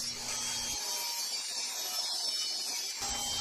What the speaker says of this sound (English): then it's over to the table saw to cut it all in half.